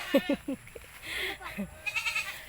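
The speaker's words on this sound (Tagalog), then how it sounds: "Na may nag-iingay na kambing." Goat bleating behind a rural house, a few short wavering cries up close at the start, then quieter outdoor ambience with faint birdsong and distant sounds.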